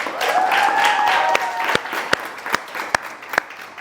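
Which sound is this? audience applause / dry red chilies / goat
audience applause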